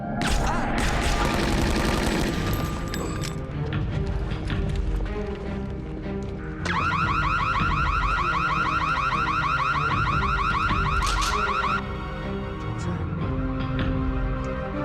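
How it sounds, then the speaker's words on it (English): A vault alarm rings out in a disaster movie scene, a loud, continuous electronic ringing that holds steady for several seconds over a dense bed of rumbling soundtrack noise and crashes, with no talking. "That's the alarm for the vault."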